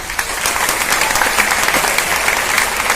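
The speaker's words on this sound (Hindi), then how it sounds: "प्लीज आप लोग ताली बजाएं." A crowd in the Kennedy Auditorium at AMU applauds for the staff of the Sir Syed play, a dense, even wash of clapping that stays loud throughout.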